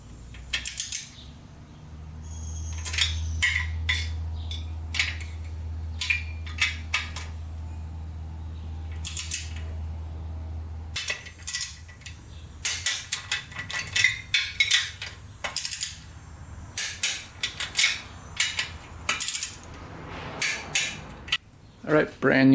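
Metal nuts are fitted and tightened onto the cylinder head of a quad engine during a rebuild, with a low hum early on and then a run of sharp clicks, taps and ratcheting clinks close by.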